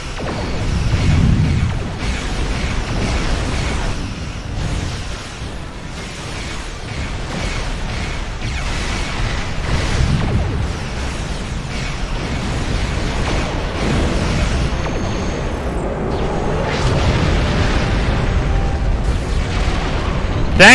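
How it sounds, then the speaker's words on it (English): Deep booming torpedo explosions from the Star Trek Online space combat game, a steady run of heavy low rumbling blasts layered with dense game sound effects throughout. "Torpedo down the throat."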